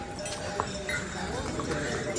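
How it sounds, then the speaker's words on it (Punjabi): Hooves of horses and mules clip-clop on a mountain trail on the pilgrimage route to Hemkund Sahib, near Govind Dham, with steady close steps and a busy outdoor background, plus some faint voices. "ਘੋੜਿਆਂ ਦਾ ਰੇਲਵੇ ਸਟੇਸ਼ਨ ਖੱਚਰਾਂ ਦਾ ਸਟੇਸ਼ਨ ਆ ਗਿਆ"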